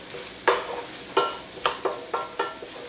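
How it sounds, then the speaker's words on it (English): Flour roux cooking in a pan for German potato salad, with six distinct stirring scrapes and soft sizzles spaced about half a second apart, alone and fairly close. "this flour is starting to, the roux is starting to bubble a little bit"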